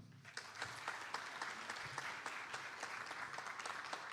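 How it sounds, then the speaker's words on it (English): Audience at a military and student veteran education summit applauding a student panel, with dense, sustained clapping from a sizable crowd that holds an even level for several seconds. "let's give a round of applause to our student panel"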